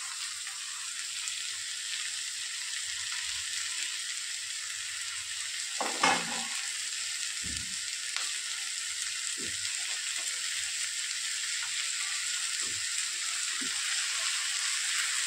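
Chopped moringa leaves fry in a hot pan with a steady, bright sizzle, while a spoon knocks and scrapes now and then as the greens are stirred, close and constant.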